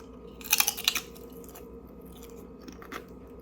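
Kettle-fried dill pickle potato chips crunch loudly in a cluster of sharp bites early on, then a single fainter crunch follows as chewing continues without any talk.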